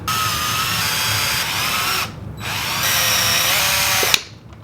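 Power drill boring into Sway Gen 2 skate soulplates, a loud close whine that runs steadily, briefly dips around the midpoint, resumes and then stops abruptly near the end.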